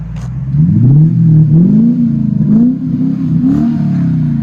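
Deep, loud V8 engine of a Lexus SC 430 4.3L with Dynomax Race Bullet mufflers and exhaust tips revving up and settling back in several throaty pulls, close by with a rumbling exhaust tone between revs.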